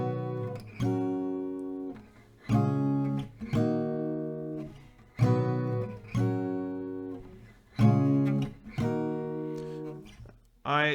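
Acoustic guitar chords played with single downstrokes, as in a song lesson: about eight bright strums at an even, unhurried pace, each ringing and fading before the next, heard alone.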